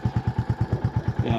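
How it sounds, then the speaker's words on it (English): Deep, regular thumps from the exhaust of a Royal Enfield Bullet 350 single-cylinder motorcycle beat at an even pace, close and prominent, with no other sounds over them. "Barring the thump thump thump of the exhaust."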